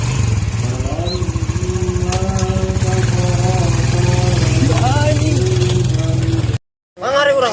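A motorcycle engine that has broken down idles with a steady, loud rumble, close by, under continuous talking, before it briefly cuts out and comes back.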